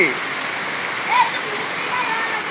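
Rain falls in a steady, dense patter and splash close by, with faint voices audible over it.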